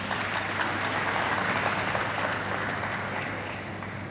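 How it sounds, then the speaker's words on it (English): Dense, steady applause from a large conference audience at a property conference in Lagos, a continuous wash of many hands clapping together with no distinct individual claps. "Can we clap for them once again?"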